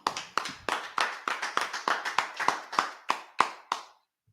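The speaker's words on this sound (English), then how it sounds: "Let's clap it up." A single pair of hands clapping about a dozen sharp, evenly spaced claps in a room, close and fairly loud, stopping abruptly.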